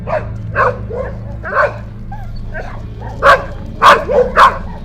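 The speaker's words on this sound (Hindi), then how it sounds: "तभी अचानक बाहर सड़क से कुछ कुत्तों के भौंकने की आवाज आने लगी" Several dogs bark and yip in short bursts outdoors on a street at moderate distance, over a low steady background hum.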